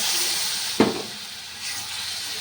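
Water hits spices frying in a pan for shol fish, giving one sharp burst of sizzle that quickly settles into a softer steady hiss.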